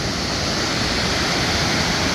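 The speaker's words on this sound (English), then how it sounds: "Another view of the Contoocook River." Water of the Contoocook River in Bennington, New Hampshire rushes in a steady, loud broadband roar with no breaks and no voices.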